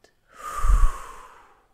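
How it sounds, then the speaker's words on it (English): A single slow, deep breath out, close and clear: a soft rising and fading exhale lasting about a second, alone in otherwise quiet air. "And breathe out."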